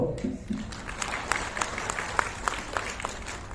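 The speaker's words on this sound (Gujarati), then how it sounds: "તમે મને તાળીઓનો દાદ આપજો" Steady applause from an audience at a Gujarati comedy performance during a Satvara community prize-distribution event in Botad, a dense crowd-wide patter of many hands clapping with scattered sharper claps standing out, no speech over it.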